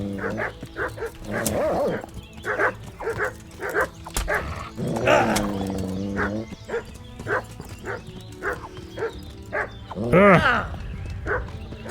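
In a game fight in Kingdom Come: Deliverance, dogs bark in quick repeated volleys, close and loud, with drawn-out whimpering yelps mixed in and someone talking over parts of it.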